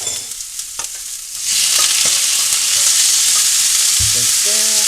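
Red onion hits a hot, smoking pan and bursts into a loud steady sizzle after a few quiet clinks, frying continuously close up with utensil taps near the end.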